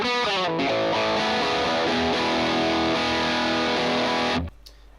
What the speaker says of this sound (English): And the blue bell sounds like this.